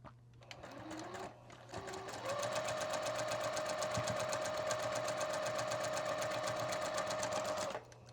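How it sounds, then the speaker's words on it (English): A sewing machine runs steadily at close range, stitching fabric strips for a log cabin quilt. It whirs with a fast, even mechanical rhythm for several seconds after a few brief starts, then stops. "I'm just going to sew it the way it is."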